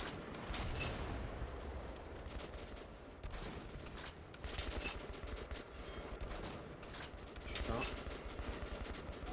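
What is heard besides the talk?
gunfire in video game Metro Last Light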